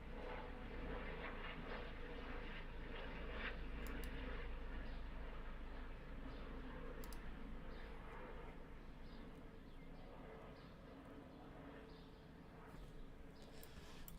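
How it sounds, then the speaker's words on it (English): A loud airplane passes overhead, its broad steady engine roar filling the scene and slowly fading with a low rumble underneath. "There's a very loud plane coming overhead."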